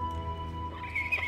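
A horse in the Western game West Hunt gives a short whinny over a steady low hum, close and moderately loud, rising at the end.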